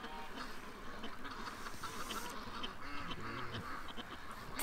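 Four drakes quack repeatedly and overlap at a moderate distance in a continuous, fairly quiet chorus.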